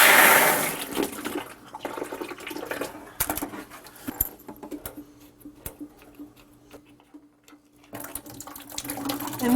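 Water pressure released from the valves of a Noritz tankless water heater, a short loud hiss and gush of water at the start, then fading to faint trickles and small clicks, a brief renewed rush near the end.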